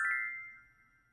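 A washing machine's end-of-cycle chime from laundry running in the background: a single faint electronic ding-ding that rings and fades quietly with no talk.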